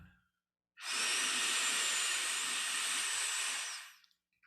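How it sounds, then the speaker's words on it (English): One long, slow inhalation through the nose during a guided relaxation breathing exercise, a steady close airy hiss that lasts about three seconds after a short silence, with no voice over it. "Let's breathe in together to the count of 1."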